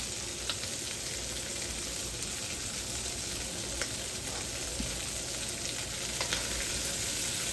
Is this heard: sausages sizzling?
yes